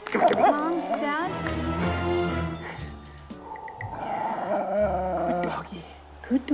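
A dog whines and howls in drawn-out, wavering tones, with people talking around it nearby.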